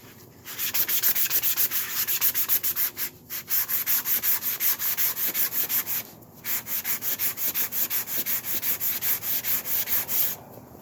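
Hand sanding a wooden cheese board with quick back-and-forth rasping strokes in steady runs, loud and close, pausing briefly twice between bursts.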